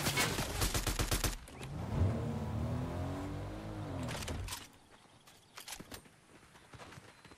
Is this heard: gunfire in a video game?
yes